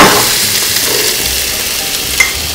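Green beans sautéing in about two tablespoons of olive oil and a tablespoon of butter, a loud, steady, close sizzle with a faint spatter near the end.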